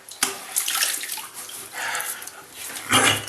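Handfuls of water splash in short bursts while a face is rinsed of shaving soap over a basin, with a sharp splash at the start and another loud one near the end, close and without talk.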